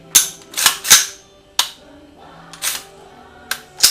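AR-15 rifle trigger pulled during a function check after cleaning, several crisp metallic clicks and snaps from safety and trigger, close and loud, spaced irregularly with no talking.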